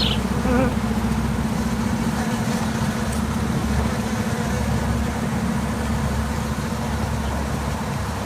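Dense swarm of bees buzzing continuously during a hot-weather bee removal, a steady close hum with a machine-like drone underneath, likely a generator or bee vacuum.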